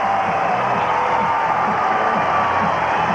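Stadium crowd in Hamilton roaring for a Tiger-Cats touchdown at a 1993 CFL game against Saskatchewan, a dense sustained wall of cheering and whoops with steady loudness throughout.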